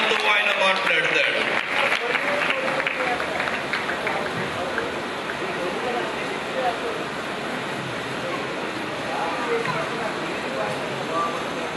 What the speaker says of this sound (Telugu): అందరూ కూడా చప్పట్లు కొట్టి దేవాది దేవుని ఆహ్వానిద్దాం.